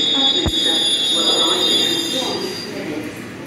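Train arriving at Bank Station on the London Underground, a rumbling approach with high steady squealing tones and a sharp click, fading slightly, under nearby talk.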